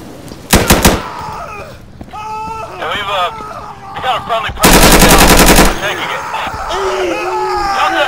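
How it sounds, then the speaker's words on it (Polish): Bursts of automatic fire from an AK-12 rifle in the shooter game Insurgency, with a short volley early and a longer sustained burst midway, loud and close, while players talk over the action. "A te AK-12 U fajnie się z niego strzela"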